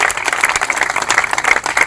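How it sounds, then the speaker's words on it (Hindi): Vigorous clapping from a gathered crowd at a welcome ceremony in Madhiyali, village India, dense and close for about two seconds. "बजाए जोरदार तालियां"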